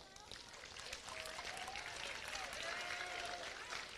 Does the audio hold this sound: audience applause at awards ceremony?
yes